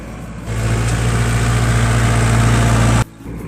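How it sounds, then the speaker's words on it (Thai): A heavy tractor engine pulling a roller over a golf green idles loudly with a steady low rumble for about two and a half seconds, then cuts away abruptly to quieter background. "ก็จะใช้รถไถนะครับ ติดโรลเลอร์ไล่บดกินนะครับ"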